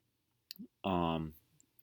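A single mouse click in Lego Digital Designer software, a short sharp tick just before a voice starts speaking.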